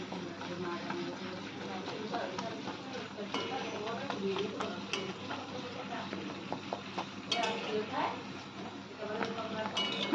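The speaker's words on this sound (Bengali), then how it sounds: "উল্টে পাল্টে ভালো করে ভেজে নেবেন।" Naan puri fries in hot oil while being turned over, giving a soft continuous sizzle with scattered light clinks and scrapes from a utensil, low and close throughout.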